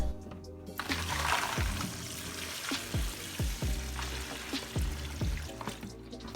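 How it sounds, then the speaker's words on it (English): Lip gloss tubes are washed under running water, with a continuous trickle and splash broken by light plastic clicks and knocks as the tubes are handled. No one speaks. "I like to wash the tubes twice."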